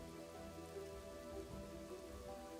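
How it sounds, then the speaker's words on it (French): Rain falls steadily in the medieval city-building game Kingdoms and Castles, a soft continuous patter on surfaces, faint and even, with no voices. "Ah il peut pleuvoir?"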